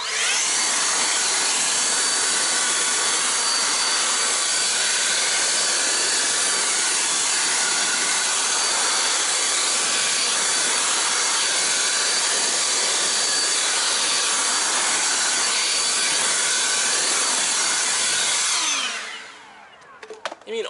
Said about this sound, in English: I'm going to grab the blower. We're going to blow dry it.